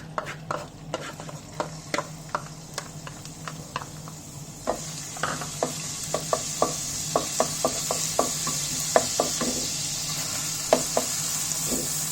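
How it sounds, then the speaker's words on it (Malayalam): Onions sauté in hot oil in a pan with a steady, soft sizzle. A spatula scrapes and stirs them again and again in a loose rhythm, close and clear, with no talking. "അപ്പോൾ ഞാൻ എണ്ണ ഒഴിച്ചിട്ട് സവോള വഴറ്റാൻ തുടങ്ങാം"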